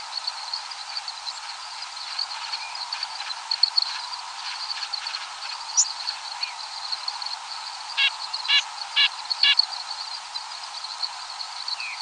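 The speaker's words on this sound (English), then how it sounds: "It was a white-breasted nuthatch." A white-breasted nuthatch gives a short run of nasal, honking calls at night, close together and fairly clear above a constant background of insects.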